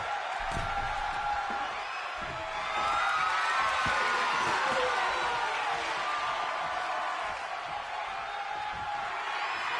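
An arena crowd in the WWE 2K25 wrestling game roars steadily, a broad wash of cheering that swells briefly in the middle, with thuds and a commentator's voice faintly underneath.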